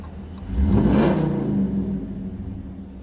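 A Dodge Charger R/T engine revs from inside the cab, a low, swelling rumble that rises near half a second, peaks and then eases back into a steady idle drone, loud and close with no talking.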